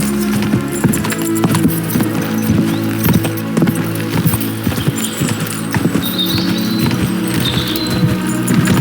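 Several horses pull a cart in the medieval video game Kingdom Come Deliverance 2, their hooves clopping in a steady, loud rhythm over a constant rumble of wheels and harness jingle, with no talking.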